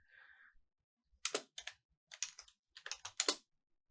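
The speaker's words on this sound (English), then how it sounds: "press shift enter and type" A computer keyboard is typed on in quick clustered bursts of crisp, close key clicks separated by short pauses, preceded by a faint brief tone in an otherwise quiet room.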